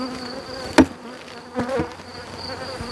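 Honeybees at an open hive with a feeder, a low steady insect buzz, with a couple of brief knocks or thumps standing out near the start and middle.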